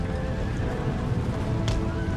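Heavy cavalry horses clash in an Empire: Total War battle, a dense, steady din of hooves and horse noise with a brief whinny-like cry, heard loud and continuous amid the general battle roar.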